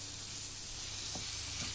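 Steady sizzling of asparagus frying in butter in a hot pan, with a couple of faint stirring clatters and no talking.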